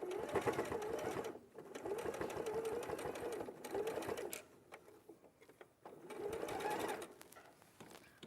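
A sewing machine stitches fabric in steady runs of rapid whirring, pausing briefly between bursts, close and loud with faint talk in the background.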